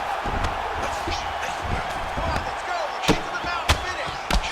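Ground and pound strikes land in the UFC 5 video game during a simulated Don Frye versus Mark Coleman fight, with several sharp thuds standing out over a steady crowd roar and commentary.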